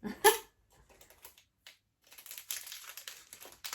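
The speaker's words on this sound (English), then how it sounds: "sorry about the rustling." Paper or plastic packaging rustles and crinkles near the microphone among sewing supplies, starting with a sharp crackle, then a quiet patch, then a longer stretch of steady crinkling, with no speech.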